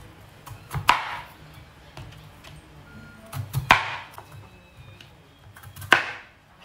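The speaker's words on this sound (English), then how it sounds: "I'm gonna dice these potatoes in smaller pieces" A knife dices potatoes on a board in a Jamaican-style potato salad recipe, with three sharp, distinct chops spaced a few seconds apart and soft faint handling noise between them.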